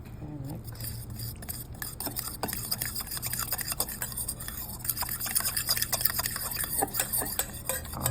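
Shrimp batter being mixed in a bowl for Louisiana fried shrimp, with continuous scraping and clinking of a utensil against the bowl, steady and close, growing slightly busier toward the end.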